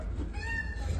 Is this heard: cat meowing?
yes